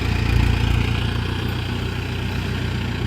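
Mahindra 6025 tractor engine running at a steady idle, a low, even rumble close by and unbroken throughout.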